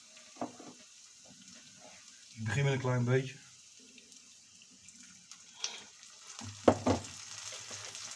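Steady frying hiss from a pan of peanut sauce for saté babi as a small splash of water goes in, sizzling under someone talking in Dutch.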